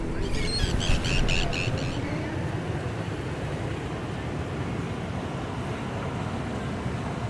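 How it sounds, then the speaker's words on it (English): Niagara Falls roars as water rushes over the edge, a dense, steady low rumble filling the background throughout, with brief bird-like chirps early on. "It's almost overwhelming to the senses to stand next to the water as it rushes over the edge with its fast pace and thunderous sound"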